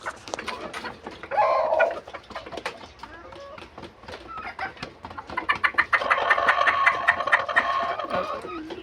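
A hen clucks close by while straining to lay an egg, giving repeated short clucks and louder bursts of agitated cackling, with a stronger run of calls toward the end.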